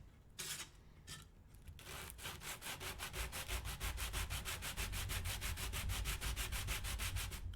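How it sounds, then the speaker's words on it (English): Steady back-and-forth sanding of very thin pine with 120-grit sandpaper, close and even, a rapid regular rasp of strokes after a few scattered scrapes at the start, on a 1:12 scale Nicholson workbench. "It's very thin pine, and I've got 120. Let's just go for it, guys. Ready for the ASMR sanding."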